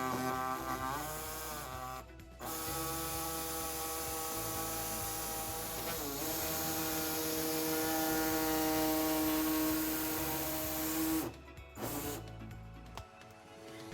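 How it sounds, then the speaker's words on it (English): A pneumatic air saw trims the plastic bumper fascia of a 2017 Volkswagen Tiguan for a trailer hitch, giving a loud, close, droning buzz that runs steadily with short breaks near the start and toward the end. "So today we'll be using an air saw to trim our fascia"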